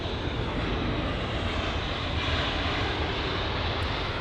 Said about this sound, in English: So it's an A320neo operated by Lufthansa